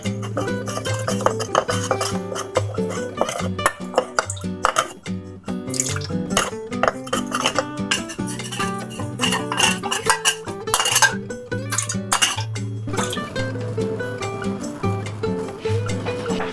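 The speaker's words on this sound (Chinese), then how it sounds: "搅拌至所有玉米淀粉溶解即可" A spoon stirs cornstarch and water in a bowl, giving a steady run of light clinks and scrapes against the bowl over soft background music.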